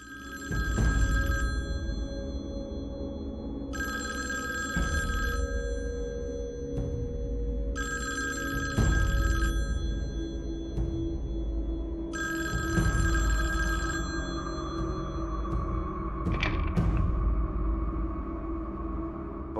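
A telephone bell rings four times in evenly spaced, bright bursts with pauses between, over a steady low hum and occasional thumps, no talk.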